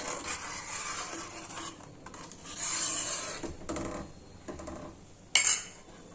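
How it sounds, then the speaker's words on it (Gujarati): A spoon stirs custard-powder milk into sabudana kheer in a pot, giving steady scraping and swirling clinks with a sharper knock near the end; no one speaks. "કસ્ટર્ડ પાવડરવાળું દૂધ છે તે તેમાં આપણે એડ કરી દેશું અને મિક્સ કરી દેશું"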